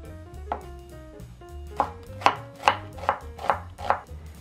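A knife chops green onions into inch-long pieces on a cutting board: a few soft, sparse cuts at first, then a steady run of about six sharp, evenly spaced chops, close and alone.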